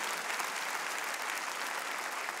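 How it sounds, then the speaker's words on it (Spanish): Church congregation clapping during a Spanish-language sermon, a dense, steady round of applause from a crowd, loud and unbroken throughout. "Dele un aplauso al Señor si tú quieres bendiciones grandes."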